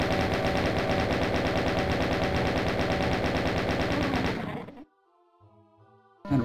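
Rapid automatic gunfire from a chaingun-style weapon in the classic Doom video game, a dense loud continuous burst of shots for about four and a half seconds, then abruptly stopping into quiet tonal game ambience before a final shot.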